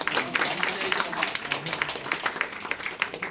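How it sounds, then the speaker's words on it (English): Scattered clapping from a small audience, a steady patter of hands that continues evenly for a few seconds without voices over it. "Please have our round of applause again."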